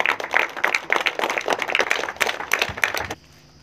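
Clapping at a night cricket tournament final in a village, a small crowd applauding in loud, uneven bursts that stop abruptly near the end.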